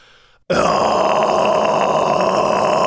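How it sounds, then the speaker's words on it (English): After a short quiet moment, a singer lets out a sudden, loud, open-throated false chord growl in death metal style. The rough, sustained roar holds steady to the end. "the big open-throated kind of false chord sound in more straight death metal sound"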